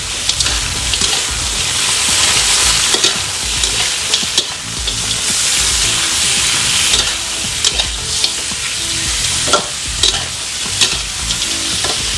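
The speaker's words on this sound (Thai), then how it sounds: "หลังจากนั้นเราก็ใส่เนื้อปูลงไปผัดค่ะ" Crab meat stir-frying with garlic in hot oil, a steady loud sizzle and crackle with frequent scraping stir strokes of a spatula, close and continuous throughout with no talking.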